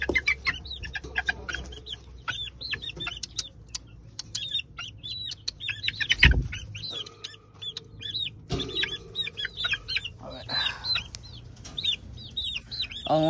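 Asil chickens and a rooster make busy, chirpy calls and clucks throughout, with a brief loud thump in the middle; no talking.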